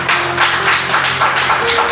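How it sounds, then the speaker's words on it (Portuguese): A church congregation claps together for Jesus during a worship service, a steady run of loud, close hand claps that swells in rhythmic pulses and fills the space for the whole span. "Vai uma linda salva de palmas para Jesus."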